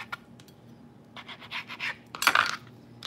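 A knife slicing a piece of ham in half on a cutting board, heard as a few soft scraping strokes and a brighter clatter near the end, faint and with no talking.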